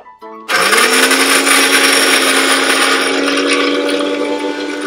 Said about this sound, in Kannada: ಸೊ ರುಬ್ ಮಾಡೋಣ.